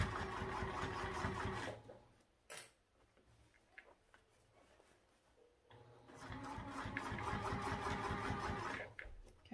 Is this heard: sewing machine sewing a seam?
yes